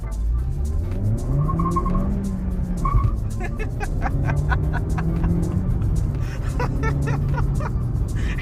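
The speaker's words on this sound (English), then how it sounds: "I'm gonna try floor it again in first gear." A 2022 Suzuki Swift Sport engine revs hard in first gear and climbs steadily in pitch as it accelerates at full throttle with traction control on, loud and close, with a brief hint of tire scrabble.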